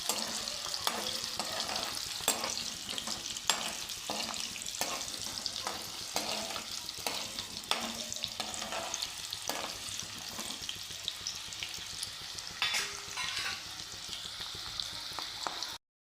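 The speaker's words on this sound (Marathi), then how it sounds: "बटाटा थोडा फ्राय करून घेतो मी" Potatoes fry in hot oil for a dum aloo curry, giving a steady, close sizzle with scattered clicks and scrapes from stirring throughout.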